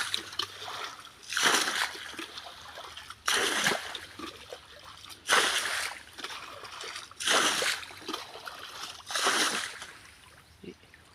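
Water splashes in repeated bursts as a small pond is bailed out to drain it for fish, five loud throws spaced about two seconds apart with trickling and dripping between them.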